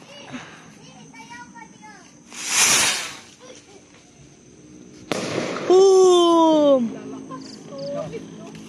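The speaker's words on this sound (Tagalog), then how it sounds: "Pinakamalakas na paputok sa buong Pilipinas" A sharp firecracker burst hisses and crackles on Christmas Eve in Laguna, Philippines, then a second loud blast follows while children shout and chatter excitedly nearby.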